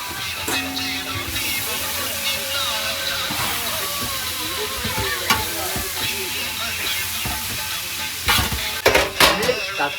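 About three kilos of onions frying in a large pot on a fishing boat off Kerala, stirred with a ladle: a steady close sizzle and hiss with scraping, louder clatters near the end, a faint voice underneath.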